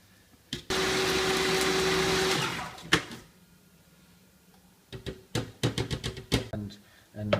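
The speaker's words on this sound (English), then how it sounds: "into the blender." A blender whirs loudly and steadily for about two seconds, chopping ingredients for pesto, then stops, followed by clattering and clicking of kitchen items.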